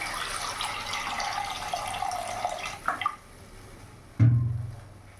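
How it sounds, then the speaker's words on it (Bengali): Water is poured into a frying pan of spiced fish curry masala for a thin fish curry, a steady broad splashing hiss that stops abruptly, followed by a short loud clatter and a low sizzling burst near the end. "আমি এবার জল ঢেলে দেবো"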